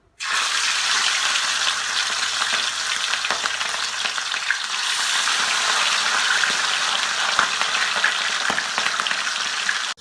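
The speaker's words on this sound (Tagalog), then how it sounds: "So, yung version naman natin, ipiprito natin. Prito natin manok." Steady loud sizzling of chicken frying in hot oil, a constant crackling hiss with occasional pops, close and continuous throughout.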